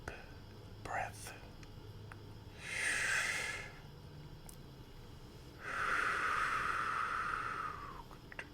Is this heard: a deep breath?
yes